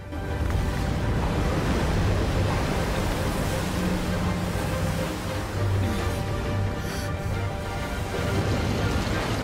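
Water washing and rushing in Genshin Impact's Fontaine, a continuous dense surf-like roar with windy noise, steady and loud for the whole stretch.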